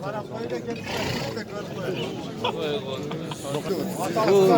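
Horses neigh and whinny at a busy livestock market in Nookat, Kyrgyzstan, with sustained calls rising over a steady crowd murmur and people talking close by.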